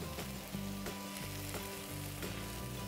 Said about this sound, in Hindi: इन सारे मसालों को हमें अच्छे से भुनना है।